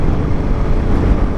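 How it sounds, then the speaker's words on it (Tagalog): A Suzuki Smash 115 motorcycle engine running at speed, a loud, dense low rumble with wind noise and no voices. "mag-80 ako pero yung makina ko medyo relax pa siya"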